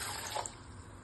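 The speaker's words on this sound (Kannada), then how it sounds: "ಬನ್ನಿ ನೀರು ಹಾಕಿ ತೊಳ್ಕೊಳ್ಳೋಣ." Water is poured over urad dal in a kitchen to rinse it before making vada. It makes a short, soft splash and trickle with no voices.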